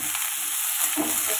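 A bunch of neem leaves sizzles in oil in a pan, giving an even, continuous close-up hiss with faint stirring scrapes.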